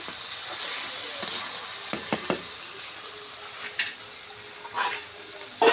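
Spice paste for duck egg curry with white sesame sizzles in a hot pan, a continuous frying hiss broken by occasional scrapes and clinks of a spatula stirring.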